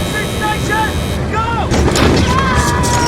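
Loud, booming World War II gunfire and artillery-like blasts roll over a dense rumbling background, with whistling tones and a sudden louder burst partway through.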